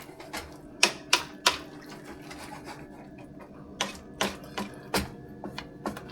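Pinto beans stirred in a pot, with a string of sharp clicks and knocks of a spoon against the pot's sides, in two short bursts with a quiet pause between, close and alone.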